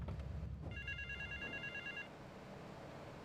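A telephone rings faintly in Grand Theft Auto III, a short burst of repeated electronic trills sitting low behind a rumbling, steady game background.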